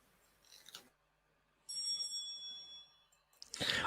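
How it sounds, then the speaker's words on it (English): A bell rings once, bright and clear with a sustained ringing decay, briefly following a faint breathy rustle and ending in a burst of noise. "Oh, we got a bell then."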